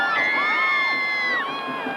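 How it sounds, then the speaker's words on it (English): A football game crowd roars continuously and loudly, with high-pitched whoops and shouts rising above a dense wall of cheering from start to end. "And this crowd is going crazy."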